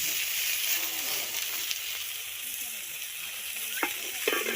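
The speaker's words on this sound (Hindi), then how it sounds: "यहाँ मच्छी तलाई हो रही है, देखिए मतलब कि फ्राई हो रही है मछली" Fish frying in a pan, a dense, even hissing sizzle held steady throughout with a few faint clicks near the end, close up and without speech.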